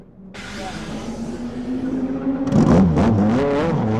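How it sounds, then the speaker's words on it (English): A twin-turbo V8 Nissan race car of about 600 horsepower fires up in the pits at the 1997 Le Mans 24 Hours, its steady idle rising into a louder, rougher rev near the end, close by with no speech. "V8 fires up. Twin turbo engine, remember, about 600 horsepower, and off they go"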